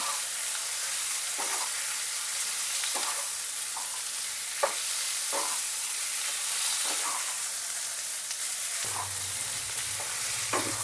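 Chicken for a chicken stew fries on high heat, giving a steady close-up sizzle and hiss with occasional spatters and stirring scrapes, unbroken throughout with no speech.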